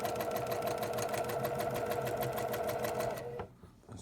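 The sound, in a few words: sewing machine sewing a back stitch on quilt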